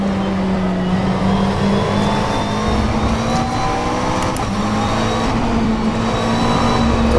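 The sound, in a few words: McLaren 720S GT3 engine in rFactor 2 video game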